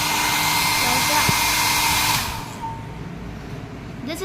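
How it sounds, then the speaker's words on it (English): A broken hair dryer with a faulty switch blows with a loud, steady whirring roar, then cuts off abruptly about halfway through, leaving quieter room noise and a faint brief tone at the end. "This is a broken hair dryer."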